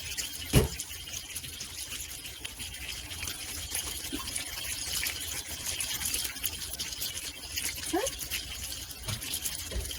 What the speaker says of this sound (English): now I can get a full pitcher of water here